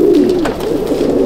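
A Madras pigeon in a loft in Howrah coos loudly and close, a steady, throaty, wavering hum that fills the short moment without pause.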